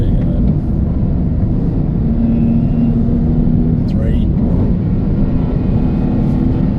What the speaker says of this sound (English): It gets a little bit loud, but like a throaty loud I quite like.